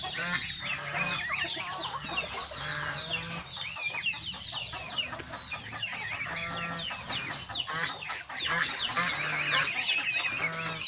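A flock of farm chickens crowds in at feeding time on a farm, dense continuous clucking and squawking with honk-like calls throughout, close and loud, no talk heard.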